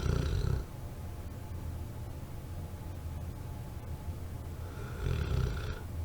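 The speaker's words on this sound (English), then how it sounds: "if you hear a weird rumbling, that's just him snoring." A sleeping dog snores nearby, with two low, rumbling snores, one at the start and one near the end, separated by quiet room hiss.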